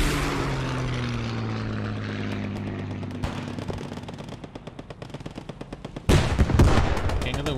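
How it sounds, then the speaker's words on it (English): Aircraft strafing run in Post Scriptum: a droning propeller engine passes overhead while rapid machine-gun fire rattles in bursts, ending in a louder close volley, with faint talk underneath. "Strafe coming in over here."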